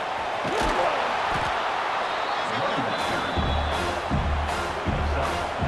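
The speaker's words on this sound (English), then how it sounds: "Here comes this home crowd as the defense tries to get off the field on 3rd down" A home crowd roars steadily at a PAC football game between the Bulldogs and the Beasts on a third down. The cheering is dense and sustained, with scattered thumps and claps running under a commentator's voice.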